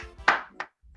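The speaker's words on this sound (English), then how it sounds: "Straighten your knees and clap 4 times with the music" Two sharp hand claps, the second softer, close and dry during a children's movement exercise done to music, with faint background sound after.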